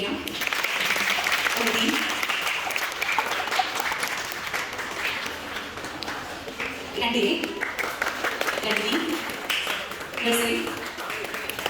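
A school audience claps as classes come forward to honour their teachers, bursts of applause rising and falling in waves while an announcer keeps speaking over the crowd.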